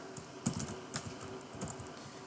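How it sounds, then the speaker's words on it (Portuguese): Someone types on a computer keyboard, a short run of soft, close key clicks in an uneven rhythm over a quiet background. "Vou colocar aqui, né, um exemplo de cabeçalho. Nome, vou digitar tudo minúsculo."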